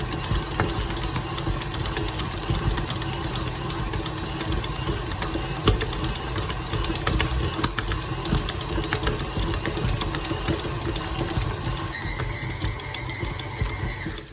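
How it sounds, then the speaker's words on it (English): A mixer or food processor kneads homemade pizza dough, running as a dense, steady motor whir with faint rhythmic knocking, loud and continuous throughout without talk. "Can't use your hands, use the mixer or the food processor."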